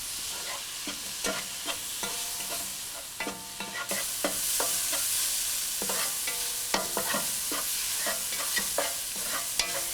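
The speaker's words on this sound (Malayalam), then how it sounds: "ഇതിലോട്ടിനി നമ്മൾ കട്ട് ചെയ്ത് വെച്ചിരിക്കുന്ന ടൊമാറ്റോ ഇട്ട് വഴറ്റുക." Chopped tomatoes sauté in a spiced masala for prawn and tapioca biryani, with a spoon scraping and knocking the pan in a steady rhythm over a continuous close sizzle.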